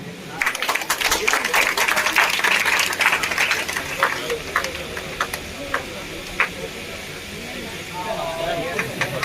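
Applause at a college farewell day celebration at Dornala degree college, a crowd clapping loudly and continuously at first, then thinning to scattered claps with background chatter and voices.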